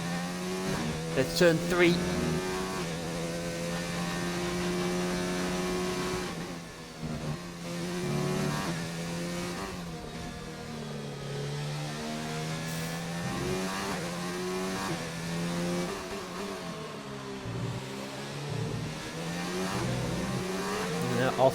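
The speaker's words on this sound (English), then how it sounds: "He's just gone round turn 1, accelerating through the gears." Race car engine accelerating through the gears on a circuit in Hungary, braking toward a corner at around 180 mph; a steady mid-pitched engine drone with rising and falling revs runs throughout under continuous commentary.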